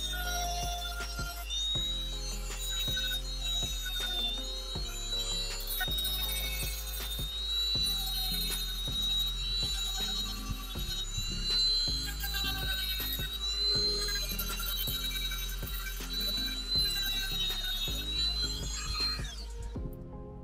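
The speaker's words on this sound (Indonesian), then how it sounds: "Ini mata amplas ya, kita coba kita menggunakan" Ingco MG1309 mini grinder fitted with a sanding disc, running steadily with a sustained high whine and buzzing motor tone throughout, close and fairly loud, then cutting off at the end.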